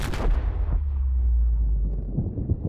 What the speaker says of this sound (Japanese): めっちゃ爆発してる